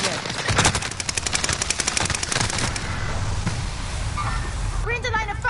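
Rapid automatic gunfire in Call of Duty, loud rattling bursts of machine-gun fire close by, with shouting voices over the shooting and a brief radio-like sound at the end.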